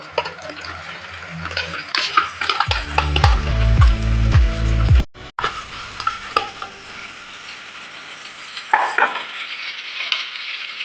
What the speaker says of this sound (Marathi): तेल सुटेपर्यंत आपण टोमॅटो भाजून घेतलेला आहे